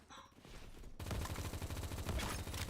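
A grenade explodes in the shooter Phantom Forces, a sudden loud blast that erupts after a quieter moment and keeps rumbling with dense crackling debris to the end.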